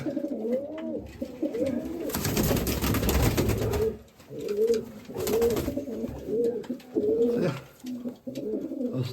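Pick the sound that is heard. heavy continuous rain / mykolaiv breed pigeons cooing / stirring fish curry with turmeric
mykolaiv breed pigeons cooing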